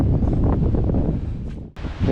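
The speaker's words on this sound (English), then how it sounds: "It did get windy today," Strong wind buffeting the microphone on the summit of Mount Monadnock, a dense, roaring rumble with gusts that rise and fall, a brief dip into near quiet, then another loud gust, with no talking.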